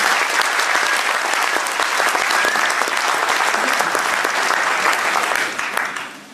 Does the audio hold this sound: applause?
yes